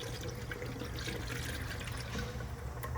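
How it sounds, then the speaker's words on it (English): Subaru blue coolant poured from the stock reservoir into a new Cobb overflow tank on a VB WRX, a steady close liquid trickle and gurgle that runs unbroken throughout. "you can take the coolant that you already have in there and just pour it right into the new tank"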